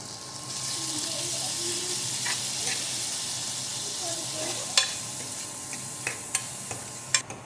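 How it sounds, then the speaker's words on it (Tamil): Marinated chicken sizzles as it goes into a hot pan with cumin, a steady frying hiss with occasional sharp clicks and scrapes of stirring near the end. "மேரினேட் பண்ணி வச்சுருக்கிற சிக்கனை வந்து நான் போட்டுக்கிறேன்"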